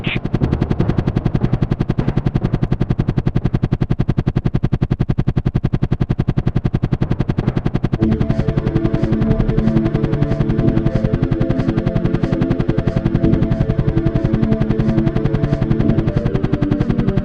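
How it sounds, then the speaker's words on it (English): In the Soviet Strike video game, a helicopter arrives with an airdrop as a dense, continuous rotor chop. Rapid gunfire and music-like tones join it, loud throughout. "Helicopter incoming with airdrop."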